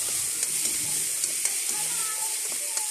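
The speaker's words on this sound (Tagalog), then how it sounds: "Tapos magigisa na po tayo ng sibuyas bawang." Onion and garlic sautéing in a pan during home dinner cooking, a steady close sizzle with occasional clicks of stirring, and no talk over it.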